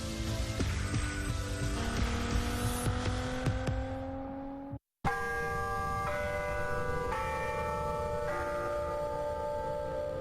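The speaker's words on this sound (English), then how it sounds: "The sound of a ringing bell." A bell rings out with long, ringing tones that overlap and decay, broken by a brief silence before more struck bell tones continue, loud and resonant.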